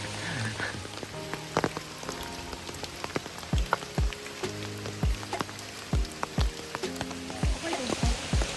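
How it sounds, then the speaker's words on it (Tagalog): Heavy rain pours steadily on a landslide-prone mountain trail on Mount Hamiguitan, a dense close hiss with scattered sharp drops and knocks, and occasional faint voices underneath. "So napakalakas pa rin ng ulan."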